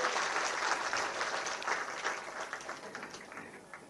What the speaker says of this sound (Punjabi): ਤਾੜੀਆਂ ਨਾਲ ਅਸੀਂ ਇੱਕ ਵਾਰੀ ਫੇਰ ਸਵਾਗਤ ਕਰੀਏ